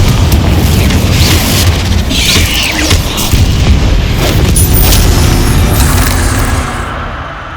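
Confringo explosive spell blasts in Hogwarts Legacy: a loud, continuous rumble of booms and crackling bursts rolls on for several seconds, then eases slightly near the end.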